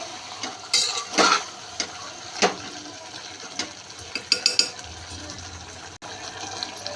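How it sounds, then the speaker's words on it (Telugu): Broiler chicken frying in a pan for curry, releasing its water, is stirred with a metal spoon, making irregular clinks and scrapes against the pan over a soft background, with brief faint voice. "ఇలా కలుపుతూ ఉండాలి"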